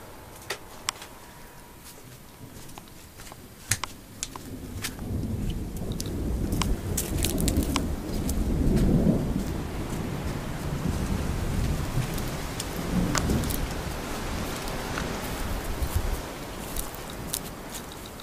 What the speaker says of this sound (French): Du tonnerre.